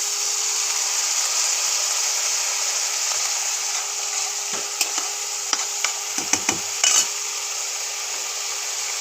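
Spice masala for a soybean curry hisses loudly and steadily in hot oil as a little water goes in, with a run of clinking stirs and scrapes of a spatula near the end.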